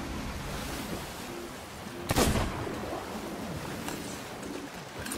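Distant cannon fire between ships in the pirate video game Sea of Thieves, one sharp boom cutting through a steady bed of ocean waves and wind.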